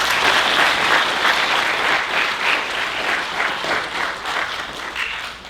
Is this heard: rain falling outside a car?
no